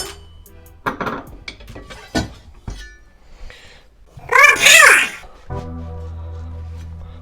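Kitchen utensils and a knife are handled while preparing onion for chicken shawarma: scattered clinks and knocks of metal and dishes, a loud rattling clatter in the middle, then a low steady hum.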